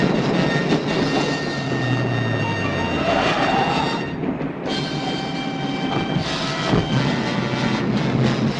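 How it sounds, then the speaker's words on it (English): A passing train is heard as a loud, steady rumbling roar with sustained tonal whine. It holds throughout at close range, with swelling surges and no speech. "Simon, there's a train."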